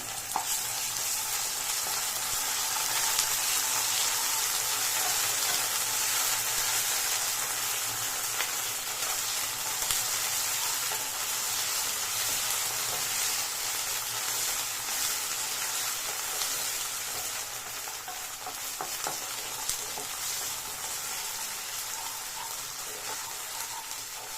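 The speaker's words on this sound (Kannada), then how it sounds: "ಶುಂಠಿ ಬೆಳ್ಳುಳ್ಳಿ ಪೇಸ್ಟು ಹಸಿ ವಾಸನೆ ಅಲ್ಲಿವರೆಗೂ ಚೆನ್ನಾಗಿ ಫ್ರೈ ಮಾಡ್ಕೊಳ್ಳಿ" Ginger garlic paste frying in hot oil for an egg kheema masala, a loud, steady broadband sizzle close to the pan with faint stirring, continuing without talk.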